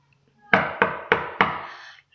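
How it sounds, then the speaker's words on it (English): Four firm knocks on a wooden door in a children's three little pigs story, evenly spaced and close, each with a short ringing decay, with no talk over them. "So he knocked on the door"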